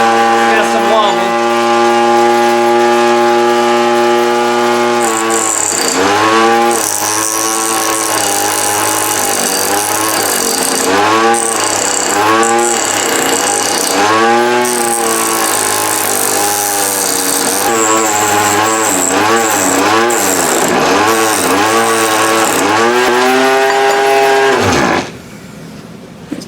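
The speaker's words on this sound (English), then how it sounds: "Taking the corners off. But I keep having an issue with the Dremel trying to move in the wrong direction while I'm doing that" A Dremel rotary tool takes the corners off a homemade blowdart, giving a loud, steady, close-up whine whose pitch sags and rises in repeated swoops as the bit bites and wobbles, then stops abruptly near the end.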